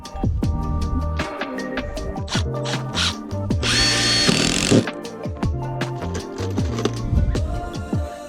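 Power drill driving screws into a wooden deck, whirring in short repeated bursts with ratcheting clicks and one longer, louder run in the middle, close by.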